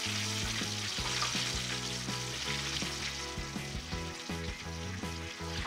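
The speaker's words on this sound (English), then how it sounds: "I'm gonna let that cook for about 3 to 4 minutes and then flip it over" Chicken drumsticks fry in a pan with a steady, dense sizzle and crackle of hot oil, close and continuous with no talking.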